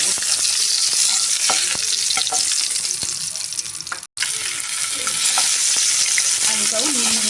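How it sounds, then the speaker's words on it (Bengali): Cubed potato, already rubbed with salt and turmeric, frying in hot oil in a pan after pointed gourd for a potol korma, giving a steady loud sizzle with occasional stirring clinks and a brief break partway through. "এবারে এই তেলে আলুটা ভেজে নেব।"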